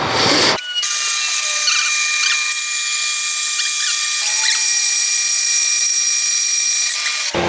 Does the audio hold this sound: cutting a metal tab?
yes